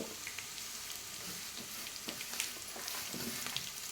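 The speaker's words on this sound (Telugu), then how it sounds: "మొత్తం అన్నీ కలిపి ఫ్రై చేసుకోవాలండి" Lentils, cumin, urad dal and garlic fry together in a pan for coconut chili powder, making a steady, busy sizzle with faint stirring scrapes and no talking.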